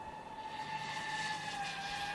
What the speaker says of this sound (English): someone's flying a little drone around